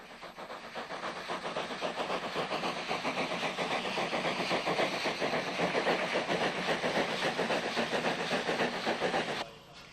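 Narrow-gauge steam train hauled by former Tralee and Dingle locomotive number 3 near Drumshanbo, bound for Ballinamore, with a steady, loud chuffing and rumbling running continuously at close range before cutting off abruptly at the end.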